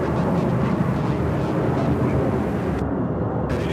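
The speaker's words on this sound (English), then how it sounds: "look at the look at that line of aircraft heading toward 18 right for takeoff" Heavy, continuous jet-engine rumble at Charlotte-Douglas airport as aircraft queue for takeoff toward runway 18 right, a loud broadband roar that stays steady throughout.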